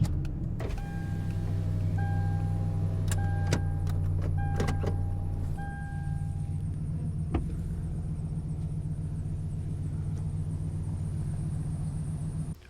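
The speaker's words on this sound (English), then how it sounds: "when I go to drive off, this will stay right here. And my truck will drag it along." A pickup truck on a boat ramp, its engine idling in a steady low rumble with a few short clicks and whirs before the motor settles, close and without talk.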